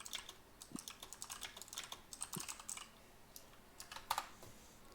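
Fast, furious typing on a computer keyboard, a dense run of quiet clicking keystrokes continuing throughout with one sharper burst near the end.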